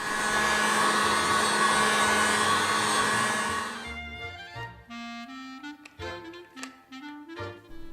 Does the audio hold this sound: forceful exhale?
no